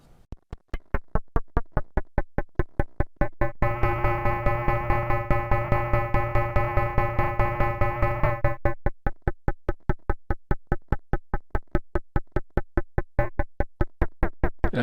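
A Kastle Drum synth module fires rapid, evenly spaced percussive hits from a clock square wave, with a loud sustained tonal drone swelling through the middle before the steady clicks continue alone.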